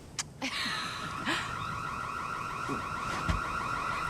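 A loud electronic alarm rings continuously in a repeating warbling tone, with a few sharp clicks and knocks at the start.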